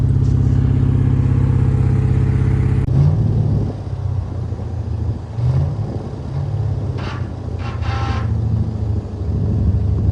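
An abandoned armoured Land Rover's engine cranks and catches, then settles into a loud, steady low rumble close by, with a few bursts of revving and clatter over the idle.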